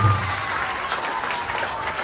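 Dense, steady audience applause fills a student achievement honouring ceremony at Drieberg College, Chavakachcheri, sustained and fairly loud throughout with no talk over it.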